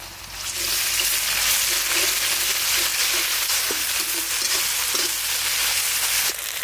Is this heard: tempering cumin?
yes